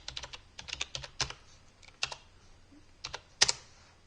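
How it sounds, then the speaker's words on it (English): Quick, light keystrokes clatter on a computer keyboard at a command line, arriving in short bursts with brief pauses between them, close and fairly quiet, ending with a sharper key press. "if we go to a command line, we can type in coin flip"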